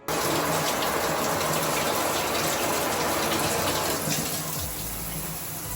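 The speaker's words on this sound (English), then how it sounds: "So see how all the water just slides off really easily when you guys do use it." Water gushes and splashes continuously over the water-resistant fabric of a Repel dual-layer portable umbrella, a loud, close, broadband rush that softens slightly near the end.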